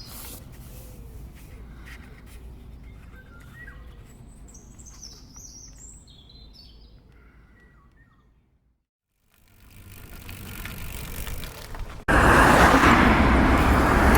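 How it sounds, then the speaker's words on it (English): Riding a bicycle into Nîmes, France, around 8:30 in the morning: steady road noise and passing traffic, birds chirping nearby, a brief near-silent dip, then a loud rush of wind or traffic at the end. "the bike tour in France sound like when you're headed into a big city at about 8:30 in the morning, heading into Nîmes"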